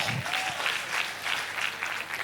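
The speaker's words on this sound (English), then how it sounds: "Please a round of applause for her" A conference audience breaks into sustained, moderately loud applause, a steady patter of many hands clapping, with a brief voice at the start.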